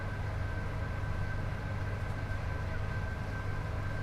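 A Class 87 electric locomotive at full throttle in Train Sim World 5 on the snowy West Coast Main Line, giving a steady, low rumbling drone with a faint whine above it and no talking.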